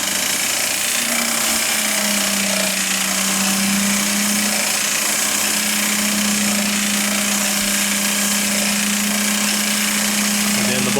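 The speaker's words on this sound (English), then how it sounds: "It's going to be a bit noisier because we've got our seed pick in there" A Precision Planting cotton planter seed meter runs with its seed pick fitted, a loud, constant mechanical rattle and hum with a steady drone, close and unbroken.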